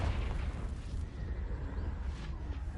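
A Confringo explosion spell blasts in Hogwarts Legacy, a loud, dense rumbling burst that fills the whole clip with continuous low roar and crackle, alone without talk.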